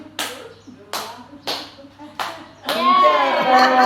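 Five sharp hand claps from a teacher in a group exercise at a school session, four evenly spaced and one more at the end, after which several people break into loud, overlapping talk and laughter.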